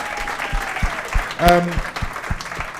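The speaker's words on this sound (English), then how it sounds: "Give Chris a big round of applause, please." An audience at a live science radio show event gives a round of applause for a guest, scattered claps sounding under a voice that keeps talking and a brief tonal sound midway.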